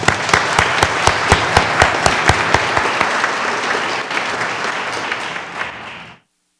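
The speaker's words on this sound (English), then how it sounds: "please join me in a round of applause for our team and the hard work that they've been doing" Conference audience applauding a state government digital team, loud close clapping with a few sharp individual claps standing out early, sustained for about six seconds before stopping abruptly.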